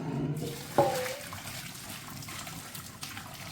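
Water is poured out of a frying pan into a sink, a steady splashing trickle with a brief louder splash near the start, running continuously and fairly close.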